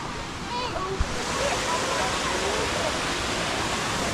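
Waterfalls in Snowdonia pour in a steady, dense roar close by, a continuous broadband rush with faint voices under it.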